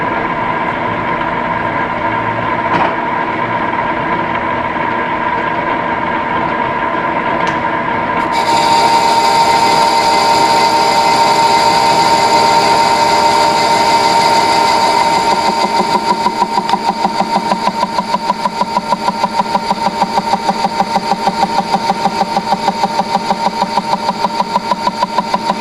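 A lathe takes cutting passes on a flywheel, removing a quarter inch from the back side in fifty-thousandths passes. A loud, steady machine drone shifts tone partway through, then settles into a rhythmic chattering cut, with no voices.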